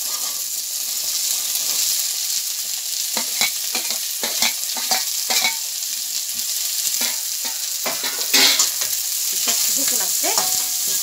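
Finely chopped bottle gourd fries in a hot pan, a steady bright sizzle running throughout while a spoon stirs it with repeated close scrapes and knocks.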